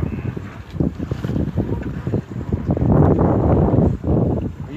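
Sailboat with a genoa under way on a choppy lake on a windy day, gusty wind buffeting the microphone over churning water and hull splashes, loud and continuous.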